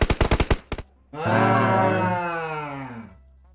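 A quick burst of about six sharp gunshots rings out in PUBG Mobile, followed by a long, loud tonal cry that slowly fades away.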